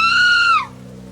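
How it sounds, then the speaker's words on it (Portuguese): Woman's scream sound effect in a horror story, a single loud, sustained high-pitched shriek lasting about half a second before cutting off into a low background hum. "e então ouvi seu grito."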